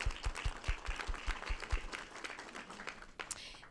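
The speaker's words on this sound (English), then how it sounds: "So let's give them a round of applause." An audience at a public accountability report meeting gives a round of applause, moderately distant and fairly quiet, with scattered individual claps and low thumps tapering off as it ends.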